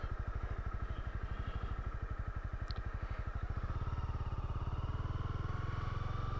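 A motorcycle rolls along at slow speed on the clutch during low-speed skills practice for U-turns and weaves, its engine putting out a steady, close, low rhythmic thrum that firms up slightly toward the end.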